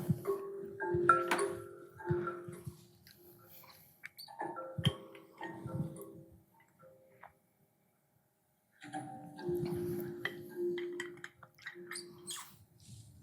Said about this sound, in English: this is the sound of ice from Ilulissat